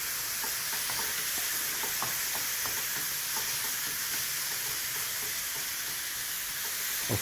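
Minced beef mixture for dumplings frying in a pan, a loud continuous sizzle with steady stirring scrapes and light clicks close by, no voices.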